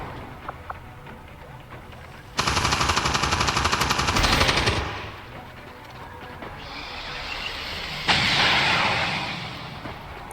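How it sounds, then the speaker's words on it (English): Saturation fire from a machine gun in XCOM 2, a loud sustained sweep of rapid shots that stops, followed by further bursts and a second surge of heavy fire later on. "gonna try to get the angle for the saturation fire"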